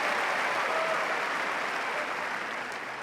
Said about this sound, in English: This crowd showing their appreciation.